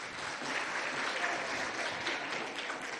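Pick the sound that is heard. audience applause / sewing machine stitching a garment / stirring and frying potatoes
audience applause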